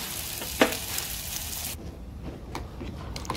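Hot stock hisses and sizzles as it is poured into roasted masala for a Maharashtrian meal, a steady bright fizzing that settles into a softer bubbling simmer with a few small clinks.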